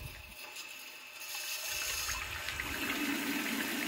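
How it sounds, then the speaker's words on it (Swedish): Water drains out through a valve on a pressure tank, a quiet rushing and gurgling flow that starts softly and grows steadier and fuller partway through. "Därefter ska jag tappa ut allt vatten som finns i hydroforen."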